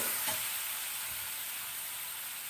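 Masala spices frying in a pan for a gobi curry, a steady bright sizzle that holds at a constant level, close and loud with no voices.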